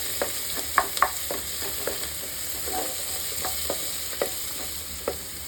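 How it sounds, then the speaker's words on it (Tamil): Chopped onion and tomato stir and sauté in a hot pan for a chicken kulambu, a soft continuous sizzle broken by scattered sharp scrapes and clinks of the spoon, with no talk. "இது கொஞ்சம் வதங்குற வரைக்கும் நம்ம வதக்கிட்டு"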